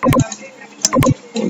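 A couple of crisp computer keyboard key presses while working in Photoshop, close and sharp, clustered in two quick bursts with short gaps between.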